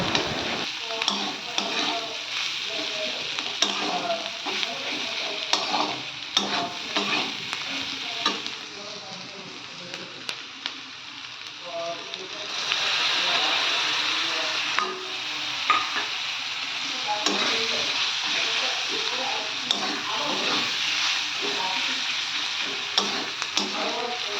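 Capsicum frying in a pan with turmeric and chilli powder, sizzling steadily up close with repeated clicks and scrapes of stirring, the sizzle growing louder partway through.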